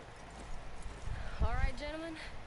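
Horse hooves clip-clop at a steady walking pace in the video game Red Dead Redemption 2, beneath a man's speech, with a brief whinny-like tone in the background.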